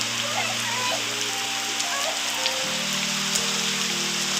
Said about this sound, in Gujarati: કેટલા દિવસથી ગરમી તડકો પડતો તો આજ વરસાદ આવ્યો મિત્રો.